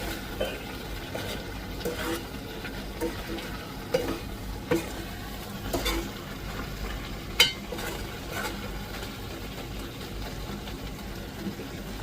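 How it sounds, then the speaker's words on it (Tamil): Liver frying in a pan with pepper and cumin, stirred now and then: a steady sizzle runs throughout, broken by sharp scrapes and clinks of the spoon at irregular moments, close and alone with no voices. "நல்லா ஈரல் வந்து நல்லா பிரட்டி எடுத்துட்டேன்."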